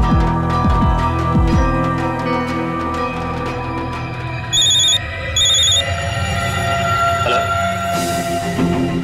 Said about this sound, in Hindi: अपना फोन बाजछे।